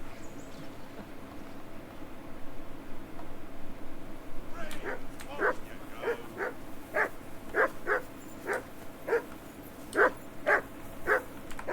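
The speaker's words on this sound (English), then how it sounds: "That barking was a pain in the ass." A dog barks in a steady run of sharp, evenly spaced barks in the medieval game Kingdom Come: Deliverance II, fairly close and loud over a low rumbling ambient background.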